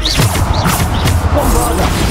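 Bombarda spell blasts in Hogwarts Legacy: a dense, loud burst of crashing impacts and booming combat effects packed into a couple of seconds, with a voice calling out over the noise.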